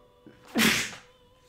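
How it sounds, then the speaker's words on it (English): A single close, sharp human sneeze, a quick breathy burst lasting under half a second, alone in a quiet room. "Sorry, I'm going to sneeze."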